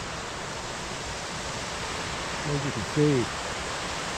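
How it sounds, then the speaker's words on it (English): Spoon Creek rushes steadily above the falls in the Olympic Forest, a broad continuous water roar, with someone speaking briefly over it near the end. "Here's part of the creek."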